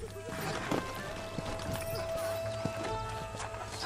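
Horse hooves clip-clop in a steady rhythm beneath game music and talking voices in the Western video game Red Dead Redemption, with the hoofbeats moderately loud and partly masked.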